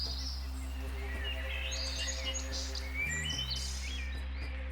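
Scattered high chirps and tweets from several small finches in Australia over a steady low hum, fairly faint and continuous.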